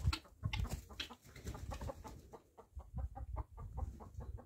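Young guinea fowl hens in a farmyard cluck in a quick, uneven series of short calls, fairly close and moderately loud, with no talking over them.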